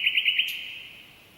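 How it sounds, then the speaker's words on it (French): A nightingale sings a quick run of bright, repeated chirping notes followed by a single sharp higher call, clear and fairly close against a quiet background. "la beauté du chant du rossignol"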